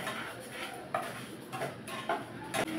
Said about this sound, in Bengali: চিনিটা দিয়ে ভালো করে একটু নেড়ে নেব।